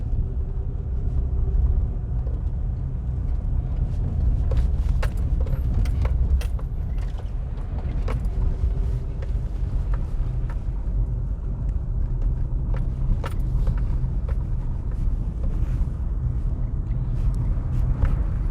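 A car drives steadily along a rural road near Bull Savanna in St. Elizabeth, Jamaica, heard from inside as a continuous low engine and road rumble with small rattles, no talking.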